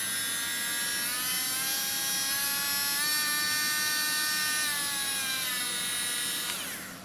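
A small five-speed electric driver with very little torque, used to run a wire stripper during servicing, whirs steadily and loud with a high whine, its pitch dipping slightly midway before winding down at the end.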